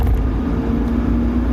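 A car driving along, heard from inside as a loud, steady low road rumble and engine drone with no pauses and no voices.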